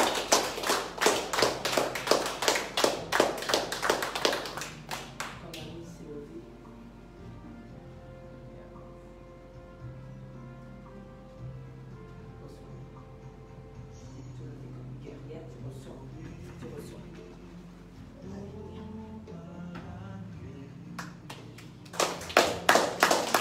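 Church congregation breaking into loud, dense applause during a worship service, a sustained burst of clapping at the start that fades under music and swells again at the end.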